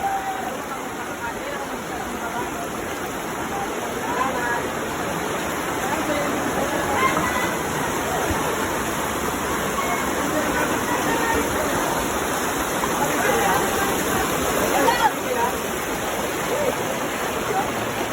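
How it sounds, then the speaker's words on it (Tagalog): Kapitan Falls in Calbayog roars as a steady, broad rush of falling water, loud and continuous, with a voice speaking over it at times. "kasama ko rito sa Kapitan Falls."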